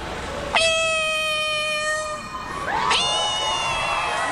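A man imitates a cat with his voice, giving two drawn-out, whining meows separated by a short pause, loud and close over a faint background murmur of people in a studio.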